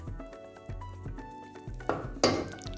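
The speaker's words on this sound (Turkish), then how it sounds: "ben biraz daha kavurdum" Flour being roasted for Turkish flour halva, stirred around a pan with scraping strokes at a steady rhythm and a few louder clatters of the spoon against the metal near the end.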